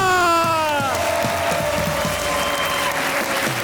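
A studio audience at a comedy talk show applauds and cheers as actor-comedian guest Usman Mazhar is welcomed. A short musical sting fades into sustained, loud clapping with scattered whoops.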